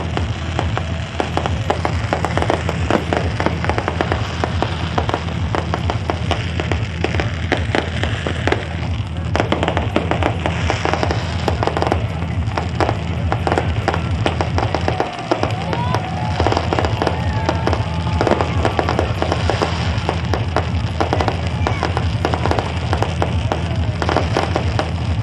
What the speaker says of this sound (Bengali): তারই পাশে আতশবাজির প্রদর্শন, সেই ছবিও দেখছেন আপনারা